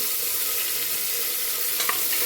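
Onion, coriander and mint frying in a pan for a vegetable curry give a steady, close hiss of sizzling oil, with a brief scrape of stirring near the end.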